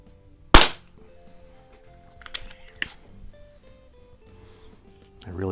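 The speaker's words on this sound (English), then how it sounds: "Let's do some shooting." A Gamo Compact .177 single-stroke pneumatic target pistol fires one sharp, loud close shot, followed by quieter clicks and handling noises and a brief voice near the end.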